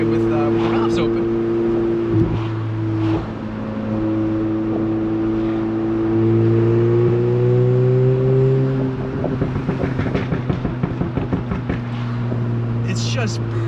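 A Golf R with an IE Stage 2 exhaust and its valves open drones steadily while driving, the engine note rising under acceleration and ending in crackling pops, with someone talking over it at times.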